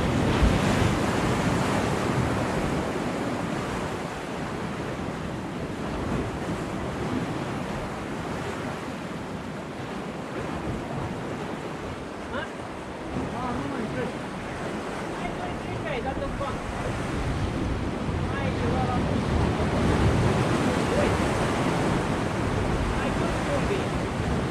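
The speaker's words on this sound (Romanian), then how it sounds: "Aici marea este mult mai agitată decât în bazin" Rough sea waves crash and churn continuously against the northern breakwater pier at Constanța, a dense, steady roar mixed with wind buffeting the microphone.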